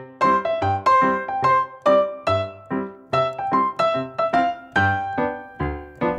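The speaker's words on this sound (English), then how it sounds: "And we can take that and we can actually apply that style to Row," Solo piano plays the nursery melody Row, Row, Row Your Boat in ragtime style, with a bouncing stride left hand under chorded right-hand embellishments, clear and close without talk.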